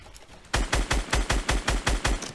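Fortnite gunfire, about nine evenly spaced, loud, punchy shots fired in steady rhythm after a brief quiet start, close up with no talking.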